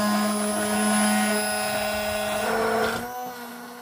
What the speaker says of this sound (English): I'm going to use my immersion blender